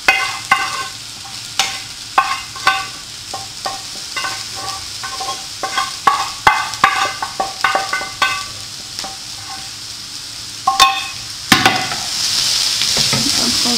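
A tuna mixture stirred in a frying pan, with steady sizzling and repeated sharp scrapes and knocks of a utensil against the pan, loud and close, with a stronger hiss near the end.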